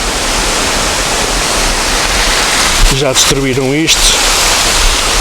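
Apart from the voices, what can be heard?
small waterfall flowing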